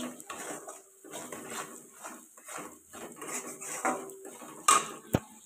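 Fried potatoes are stirred with chili powder and spices in a metal cooking pot for a prawn curry, giving a series of soft scraping, rubbing strokes with a couple of sharper clinks near the end, close and fairly quiet.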